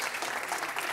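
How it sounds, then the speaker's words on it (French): An audience applauds at a French crafts awards ceremony, dense continuous clapping filling the room, fairly loud and steady throughout. "Oui, on peut l'applaudir"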